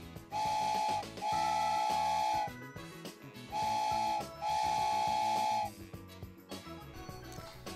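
A train's steam whistle blows loud and close in two paired blasts, each a short toot followed by a longer held tone, with a pause between the pairs and rumbling clatter underneath.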